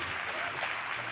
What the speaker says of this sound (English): Everyone, please, another big round of applause to our thank you.